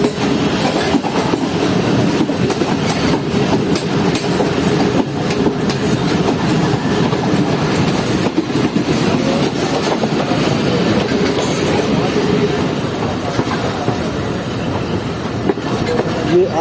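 The Green Line Express passes with locomotive 4558 on a single-line railway, its wheels rumbling and clattering loudly and continuously up close.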